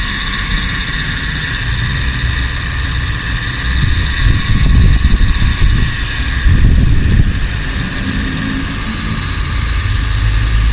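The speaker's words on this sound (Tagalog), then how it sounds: "Ang ingin ng compressor natin na parang tuyong-tuyo talaga" A car air conditioning compressor running dry and starved of refrigerant, a steady droning engine-bay hum with a low rumble that swells briefly mid-way, loud and continuous with no talk.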